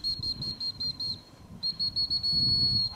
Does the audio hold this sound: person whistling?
yes